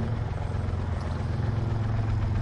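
A video game helicopter hovers in midair with a steady, loud rotor drone that stays constant throughout, with no talk over it.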